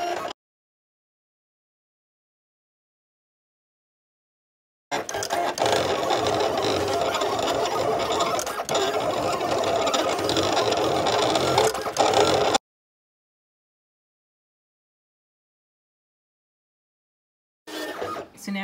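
A Silhouette cutting machine runs a print and cut job, giving a steady mechanical whirr and rattle for several seconds between stretches of silence, with another brief start at the end.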